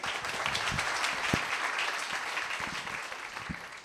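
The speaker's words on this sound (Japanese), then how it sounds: "皆さん盛大な拍手を持ってお迎えください" Audience applause welcoming a speaker on stage at a talk event, a dense, steady wash of many hands clapping at moderate volume throughout, with a few sharper individual claps standing out.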